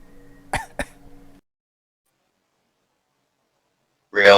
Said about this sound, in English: Because you just coughed.